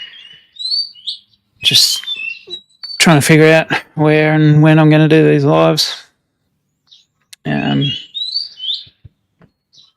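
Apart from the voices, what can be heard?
birds chirping in the background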